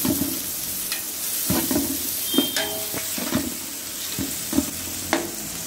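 Tomatoes and green chillies frying and being stirred in a pan for mutton salna, a steady close sizzle with repeated scraping stir strokes every second or so.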